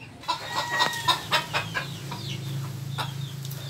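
A young fighting-cock chicken, about two to three months old, clucks in a quick series of soft, close calls, fairly faint over a low background hum.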